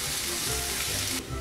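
Onion sizzling in hot olive oil, a loud steady crackling hiss that fills the whole short moment and eases slightly near the end.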